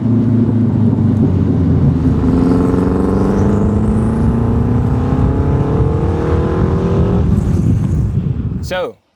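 A Renault 5 Turbo engine pulls hard while driving, a loud steady drone rising in pitch as the turbo builds boost, cutting off sharply near the end.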